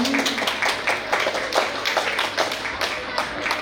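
Audience clapping at a live vocal show celebrating a singing school's second anniversary, steady dense applause throughout with some voices mixed in.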